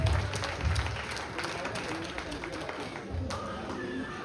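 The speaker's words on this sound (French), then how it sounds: "On peut applaudir, s'il vous plaît." Scattered applause from a crowd, claps rising and falling with murmuring voices underneath.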